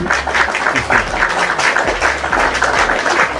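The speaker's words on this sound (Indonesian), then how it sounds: "tepuk tangan" Audience applause at a live Quran debate event breaks out after a call to clap, a dense, fairly loud patter of hands lasting a few seconds with a low hum beneath.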